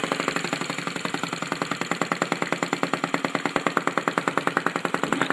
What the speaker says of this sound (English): So now it's idling, almost idling.